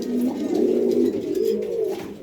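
Pigeons in a pigeon house coo steadily and close by, low rolling calls overlapping for about two seconds with no talking.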